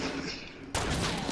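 Gunfire in Fortnite, a sudden loud burst of shots that cuts in halfway through and holds steady to the end, with voices from the players faintly underneath.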